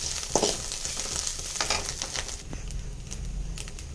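Shana fish fries in a pan with chilli powder and masala, a close, steady sizzle broken by occasional stirring scrapes, with no one speaking.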